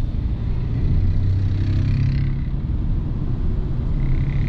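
An ORA 03 electric car with 171 hp accelerates with a low rumbling road and motor noise that swells steadily and stays close, with no talking.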